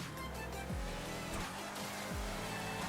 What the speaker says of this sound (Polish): ten samochód troszkę po prostu inaczej driftuje niż wszystkie w tej grze